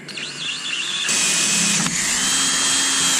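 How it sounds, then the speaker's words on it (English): A power drill whines up to speed and runs steadily, close and loud, after a short softer whirring start, drilling parts for a kayak motor lift. "So I just got me a drill bit here."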